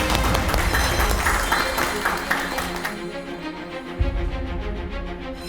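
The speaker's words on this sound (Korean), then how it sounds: "여러분 큰 박수로 청해 듣겠습니다." Studio audience on a Korean TV talk show applauding to welcome a semiconductor expert guest, a burst of dense clapping that thins and fades after a few seconds, followed by quieter room tone and a single soft thump.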